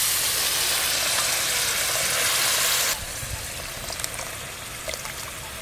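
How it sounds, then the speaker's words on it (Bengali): Coconut milk strained into a pan of well-fried masala for prawn malai curry, a steady loud sizzle and hiss for about three seconds that drops to a softer bubbling with faint clinks. "এবার এই নারকেলের দুধটা ছেঁকে দিয়ে দেব।"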